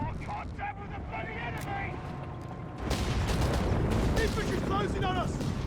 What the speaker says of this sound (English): it is under direct fire there from various artillery pieces